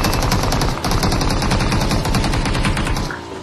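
Automatic gunfire in the video game Peacekeeper Elite: loud, rapid, evenly spaced shots in long sustained bursts, briefly dipping once before trailing off at the end.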